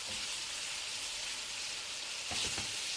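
Onions fry in a pan with a steady, close hiss of sizzling oil as they cook for a chicken liver dish. A brief clatter of stirring breaks through near the end.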